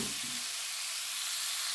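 Pork with gram flour frying in a pan gives a steady, close sizzle that holds evenly throughout, with a few low clatters from stirring at the start.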